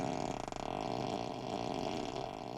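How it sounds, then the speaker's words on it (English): A Tesla Model 3 novelty fart sound effect, the Ludicrous Fart setting, plays as a single long, sputtering, moderately loud blat with a wet flutter, heard alone. "when someone sits on it, as you can hear, it makes a farting sound"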